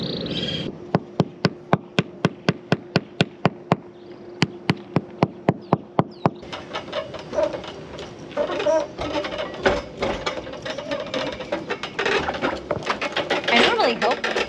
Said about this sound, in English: I'm hammering them in